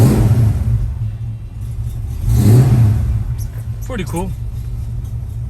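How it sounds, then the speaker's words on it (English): A 1968 Ford Mustang's engine rumbles at idle, then swells in a brief rev before settling back into a low steady throb, close and loud, with a person speaking briefly over it. "If you turn off the alarm, car cranks right up."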